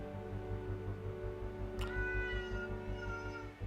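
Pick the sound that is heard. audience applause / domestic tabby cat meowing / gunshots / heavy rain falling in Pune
domestic tabby cat meowing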